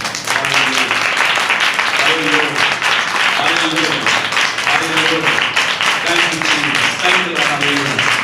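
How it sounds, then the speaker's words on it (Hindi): Church congregation clapping in praise of the Lord, a steady broad patter of hands running throughout, with a voice speaking or singing over it. "ताली बजा के प्रभु की तारीफ।"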